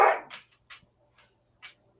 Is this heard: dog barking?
yes